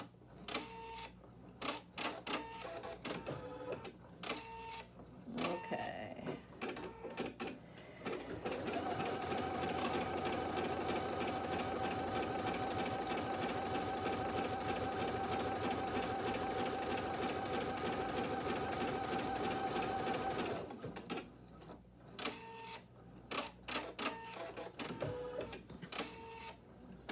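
Sewing machine stitching backward along a fabric strip: a steady fast mechanical whir running unbroken for about twelve seconds, framed by stop-start clicking and short bursts of needle action before and after.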